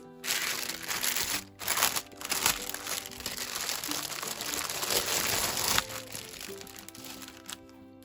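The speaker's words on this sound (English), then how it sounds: "How does it open without me ripping the packet?" Crinkly plastic packet being opened for a diamond painting craft kit, a continuous close crackling and crumpling across the whole stretch with brief pauses between handlings.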